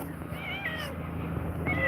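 A domestic cat meows a few times, with rising and falling wavering cries over a steady background hum, fairly close and moderately loud, during a tense moment with animals at play.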